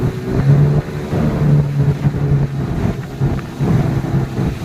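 A Huangjie 40 HP outboard motor on its first run, cruising at light throttle: a steady, loud engine drone with a low hum runs throughout, mixed with wind buffeting and the rush of water, and no voices.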